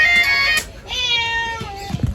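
Two close, clear meows from a cat, one short and one drawn out, followed by faint rustling.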